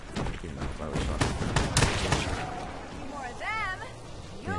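Shotgun blasts in Black Ops 3's Shadows of Evil zombies mode, several loud bursts clustered early and layered over dense game noise, with a voice talking through the action.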